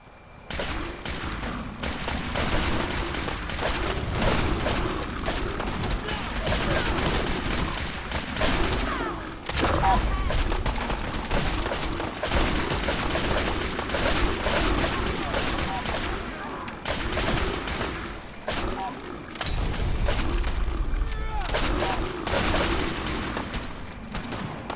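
Sustained heavy gunfire in Fallout 4's Far Harbor DLC, dense volleys of rifle shots and bursts crackling almost continuously and loudly, with brief lulls and voices shouting over the battle.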